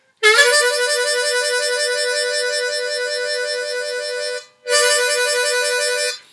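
Blues harmonica trill rapidly alternating between holes 3 and 4, a loud, bright, reedy warble held for about four seconds, a brief breath gap, then resuming for another second and a half, played alone.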